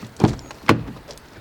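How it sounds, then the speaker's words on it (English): The rear door of an MG HS car opens with two distinct, close mechanical clunks about half a second apart, heard alone without speech. "The doors open nice and wide."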